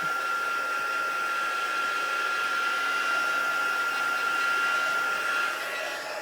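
A hair dryer blows steadily and loudly at close range, drying a wet black ink swipe in a craft project, a constant whining whoosh that holds throughout and eases slightly at the end.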